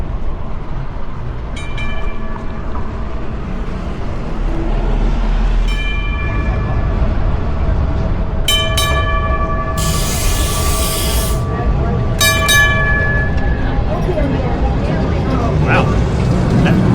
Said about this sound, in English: And here comes the trolley.